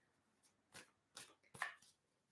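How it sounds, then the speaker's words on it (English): Tarot cards are shuffled by hand in a few quick riffling bursts, close and soft, with brief pauses between them. "So I'm going to continue shuffling so that we don't have all the same"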